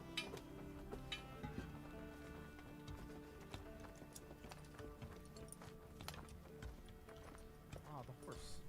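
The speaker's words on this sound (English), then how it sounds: "Ah, the horse." A horse clip-clops in Assassin's Creed Valhalla, with quiet, regular hoof taps running under game music and ambience, while players talk over the gameplay.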